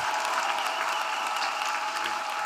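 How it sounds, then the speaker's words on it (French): A church congregation claps for the Lord in sustained, dense applause filling the hall, steady and loud throughout without a break. "Let us clap for the Lord."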